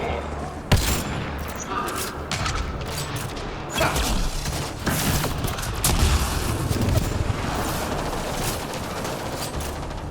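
Rapid bursts of gunfire from the video game Mass Effect: Andromeda, in a battle on ice, with dense overlapping shots and booms across a continuous loud combat backdrop.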